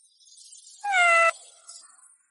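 A single drawn-out, tonal meow, clear and fairly loud, likely a person imitating a cat, set against quiet background.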